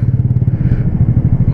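An old first-model Modenas Kriss 110 motorcycle engine idles close by, a steady, loud thumping putter that pulses evenly throughout without any talking.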